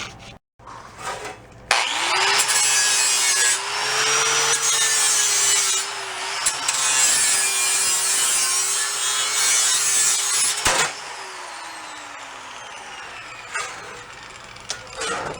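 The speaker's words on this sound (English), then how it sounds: "I'm going to run around with a flapper disc. We're going to go clean up the edges." Flap disc on an angle grinder cleaning up the edges of a Beaver amphibious vehicle, a loud, close, sustained abrasive whine with a slight pitch sag. It runs for several seconds, stops briefly, then continues more quietly.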